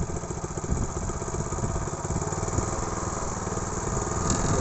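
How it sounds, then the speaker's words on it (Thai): An old Japanese walk-behind tiller's small engine revs up in a close, steady chugging drone that grows slightly louder toward the end, with no talking. "เร่งเครื่องนะครับ"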